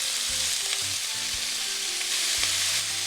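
Cold meat dropped into a hot pot for Japanese nikujaga, sizzling in a bright, hissing, continuous crackle, close and loud, with a few brief low knocks and no voices.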